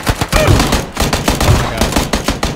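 Rapid bursts of PUBG gunfire, sharp loud shots in quick irregular volleys, close and dominant throughout.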